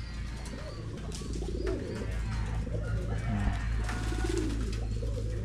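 Pigeons coo softly and repeatedly around their bath tub, the low rolling calls overlapping against a steady outdoor background hum.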